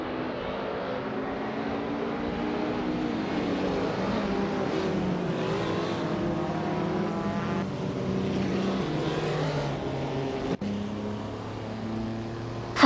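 Racing cars roaring off at the start of a race at Wakefield Park, a field including a 2000 BMW Z3, with layered engines revving and shifting up through gears, loud and continuous with overlapping passes.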